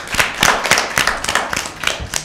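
A small group claps for Team B in a Bible quiz, about eight or nine fairly loud, uneven hand claps spread over a couple of seconds.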